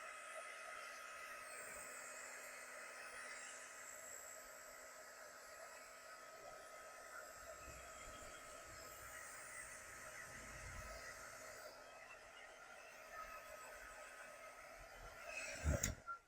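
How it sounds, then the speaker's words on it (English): A heat gun on its low setting blows air over wet acrylic paint on a mixed media tag, giving a steady, close, continuous airy roar that holds unchanged for the whole stretch with a brief clunk near the end. "I'm going to take the heat gun on the lower setting"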